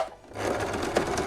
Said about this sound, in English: So we're going to go to our sewing machine.